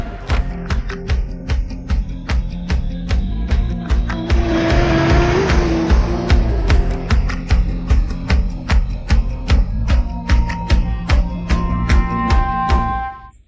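A car driving off fast in a Hindi dubbed love-story film, with a loud, steady engine roar and rumble holding throughout and repeated sharp clicks and taps over it.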